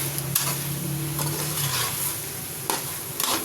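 Chicken bones fry in a pan of macaroni base, a steady soft sizzle with occasional stirring scrapes and a few utensil knocks against the pan, close and moderately quiet, no voices.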